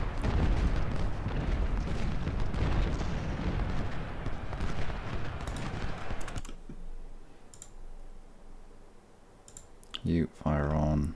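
Cannon and artillery fire in the Civil War strategy game Ultimate General: Civil War, at the battle of Malvern Hill: dense, rumbling volleys of booms for several seconds, then quieter scattered clicks, with a voice at the end.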